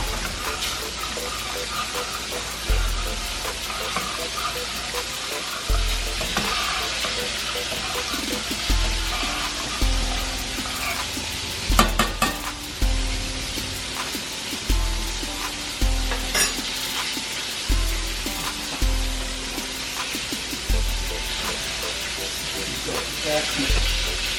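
Smoked sausage sizzling and frying in a pan alongside cabbage, a dense, steady sizzle lasting throughout with periodic low thumps and scraping from stirring, close and fairly loud.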